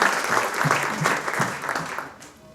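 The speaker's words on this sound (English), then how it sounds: "I think this deserves a big round of applause." Applause from a conference audience fills the room, a dense steady clatter of many hands that holds for a couple of seconds, then thins and fades away.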